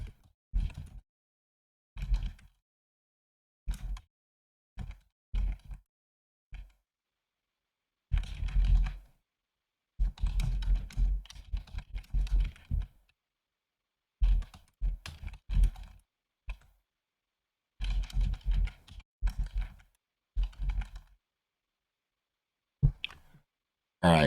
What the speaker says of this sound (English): I'm just gonna type it.